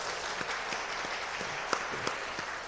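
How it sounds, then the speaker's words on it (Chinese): Church congregation clapping during a Sunday worship service in Hsinchu, a steady wash of many hands from a seated crowd with a few sharper claps standing out, moderately distant and even throughout. "那我们也再一次的拍手"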